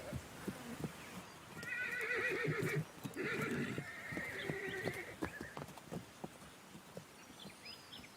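Wild horses whinny in two long, wavering neighs at moderate distance, with soft scattered hoof thuds on open ground before and after.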